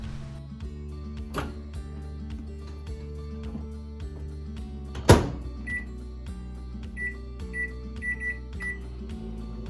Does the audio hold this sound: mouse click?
no